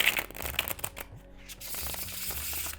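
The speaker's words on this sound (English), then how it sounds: "I do shuffle, bridge shuffle before every reading." Tarot cards being bridge shuffled, with a soft riffling burst followed by quieter shuffling rustles and taps, close and alone.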